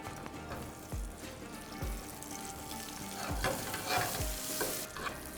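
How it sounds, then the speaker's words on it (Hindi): Eggplant pieces fry in a masala pan for aloo baingan sabzi, a soft steady sizzle broken by repeated stirring scrapes roughly every second, close but fairly quiet. "अब इसी पैन के अंदर हम डालेंगे बैंगन"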